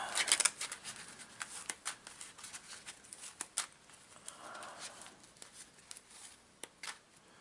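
Playing cards for a board game are shuffled by hand, giving quiet, repeated riffling and snapping bursts in an irregular rhythm, close and alone.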